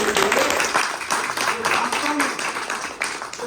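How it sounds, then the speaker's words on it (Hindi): Steady crowd applause at an honours ceremony held by lease holders in Bajpur: dense, continuous clapping from many hands that fills the whole stretch at fairly close range. "मैं चाहता हूं कि जोरदार ताली उस अधिकारी के लिए"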